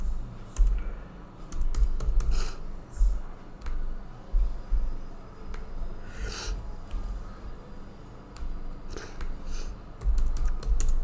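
Keys clatter on a computer keyboard in steady, close bursts of rapid typing with short pauses in between, with a few faint breaths and no clear talking.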